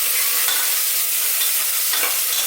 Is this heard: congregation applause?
no